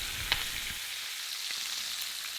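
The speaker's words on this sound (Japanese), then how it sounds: "内側の面の肉は焼き固まったらひっくり返して皮面を焼いていきます" Steady, soft sizzling of chicken skin frying in a hot pan, a continuous crackly hiss with a brief louder pop near the start.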